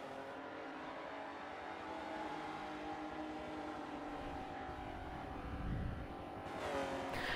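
Engines of 1992 Alfa Romeo 155 touring cars drone steadily in a racing sim at Sebring Short, a sustained mid-distance roar with a rise in revs near the end and no talking.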